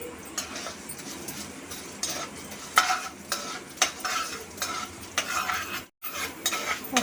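Urad dal, chana dal, coriander seeds and cumin are stirred in a pan, giving a quick series of scraping, rattling strokes over a soft sizzle, with one brief dropout near the end.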